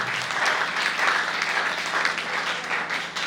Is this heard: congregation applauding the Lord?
yes